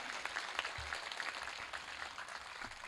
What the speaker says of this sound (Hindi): एक बार पूरा सदन दोनों हाथ उठाकर तालियां बजाकर मुझे आदेशित करें